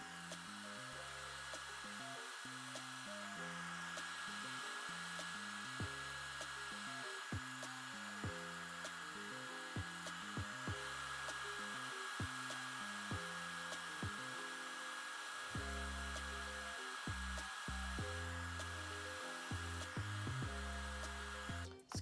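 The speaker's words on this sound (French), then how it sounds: "je vais venir prendre mon sèche-cheveux et je vais mettre de l'air froid" A hair dryer blows cool air steadily onto a glued lace front wig, a continuous close whirring hum with a high whine, broken by rhythmic low bumps and knocks as it is held and pressed against the wig, with no talking.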